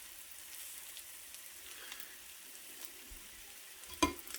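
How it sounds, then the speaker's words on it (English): An egg fries with corned beef hash in a pan, a soft, continuous sizzle and crackle heard up close at low volume. A sharp clink of utensil on pan lands near the end. "I'll kind of poach the egg a little bit as it's frying"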